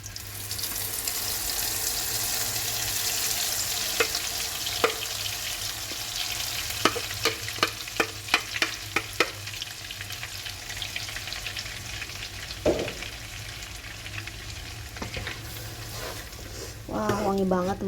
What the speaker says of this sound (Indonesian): Menggunakan minyak yang sama, kita tumis dulu bumbu yang sudah dihaluskan.